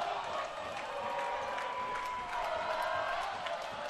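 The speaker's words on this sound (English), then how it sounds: "you can hear their crowd going nuts" The St. Pete crowd cheers and applauds at a volleyball match, a steady, fairly faint roar from a packed gym with no single voice standing out.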